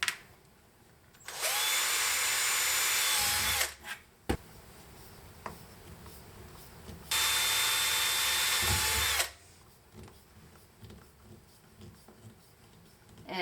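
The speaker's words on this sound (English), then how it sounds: "I want to drill them through the gray cap as well" A power drill bores through a gray plastic pipe cap in two loud, steady whining bursts of a few seconds each, separated by quieter handling noises, with no talk.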